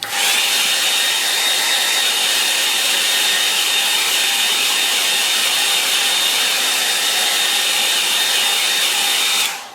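A hair dryer blows on wet watercolour paint, giving a loud, continuous, close whoosh and whine that holds steady for nearly ten seconds.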